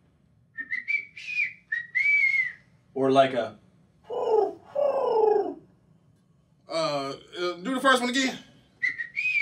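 A person whistles a short, rising and falling tune in imitation of a bird singing, in a few close bursts traded with brief talking between them.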